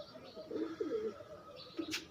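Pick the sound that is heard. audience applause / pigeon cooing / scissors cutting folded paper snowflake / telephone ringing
pigeon cooing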